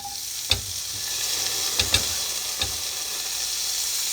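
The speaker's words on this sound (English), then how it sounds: "Next up, add some green onion." Green onion sizzles in a hot frying pan during a quick shrimp meal, with a steady hiss of frying broken by several sharp scrapes and clacks of stirring, close and fairly loud, with no talking.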